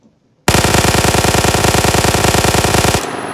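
Rapid automatic gunfire in Minecraft modded with Create rattles out as a loud, fast, evenly spaced burst lasting about two and a half seconds, then stops abruptly, with no talking.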